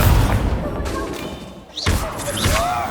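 A Confringo spell in the Hogwarts Legacy video game goes off in loud, close thumps and blasts, with a couple of rising whooshes near the end.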